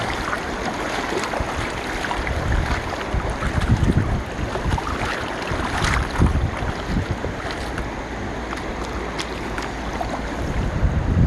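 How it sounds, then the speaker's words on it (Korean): Wind blows outdoors with uneven, gusty buffeting against the microphone over a constant rushing background. Loudness swells and falls irregularly, and no one speaks. "바람이 조금 부네요."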